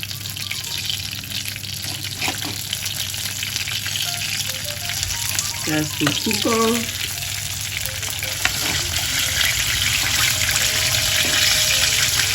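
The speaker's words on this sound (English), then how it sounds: "there's a lot of liquid, that's why you hear the bubbles like increasing" Chicken wings fully coated and frying in hot oil for a second time, giving a loud, steady sizzle and bubbling that runs throughout, close up, with a brief spoken remark partway through.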